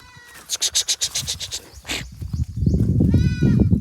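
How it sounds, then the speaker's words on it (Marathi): Goats bleat on a farm, a run of loud, wavering calls close by followed by further bleats over a noisy rustling background. "छान छान बकरे आहेत आपल्याकडे, बघू शकता मित्रांनो तुम्ही"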